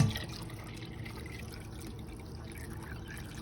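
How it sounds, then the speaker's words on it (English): Water trickles steadily through a Berkey gravity water filter, a soft continuous close-up dribble of liquid without separate drips. "Can you hear it kind of trickling instead of drip, drip, drip?"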